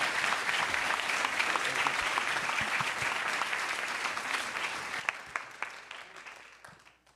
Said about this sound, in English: Why don't we give our keynote speaker a round of applause?